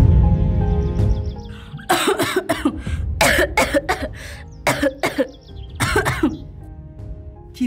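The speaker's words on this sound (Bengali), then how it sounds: "কি হয়েছে মা, কাশছো কেন?" A woman coughs in harsh, repeated bursts during a Bangla domestic drama scene, several close, loud coughing fits separated by short pauses.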